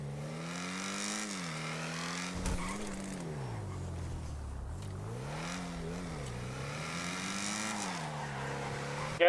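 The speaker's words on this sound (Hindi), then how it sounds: "तेरी गाड़ी की आवाज आ रही है हमें" A car in a video game drives and skids, its engine tone rising and falling in smooth waves while faint tire squeal sits on top, heard steadily at moderate loudness.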